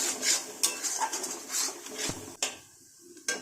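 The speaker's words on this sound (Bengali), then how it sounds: "এখন ভালো করে মশলাটাকে কষে নেব" Spice paste is stirred and fried in a cooking pot, giving close metallic clinks and scraping of a utensil against the pot in irregular strokes, with no talking.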